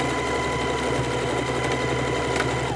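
A sewing machine whirs steadily at speed, its needle stitching a trouser waist in a fast continuous hum, close up with no talking.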